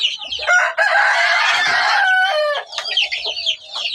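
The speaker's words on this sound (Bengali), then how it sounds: "প্রচুর আওয়াজ হইতেছে প্রচুর আওয়াজ এই যে খাঁচায় এগুলো আসলে আমরা এখান থেকে ডিম উৎপাদন করি" Caged farm chickens clucking loudly at close range while a rooster lets out a long crow over them, a dense, continuous racket of fowl calls.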